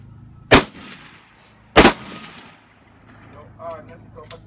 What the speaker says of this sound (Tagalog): Sige, putukan mo.